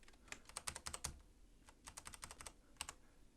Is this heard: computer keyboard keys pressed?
yes